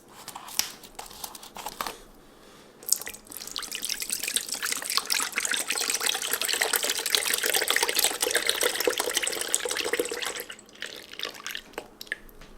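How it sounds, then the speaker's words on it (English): Liquid egg whites from a carton pour into a bowl in a steady, splashy trickle that runs for several seconds, close up, with a few faint knocks and drips before and after and no speech. "I'm going to put in 2 cups of these egg whites"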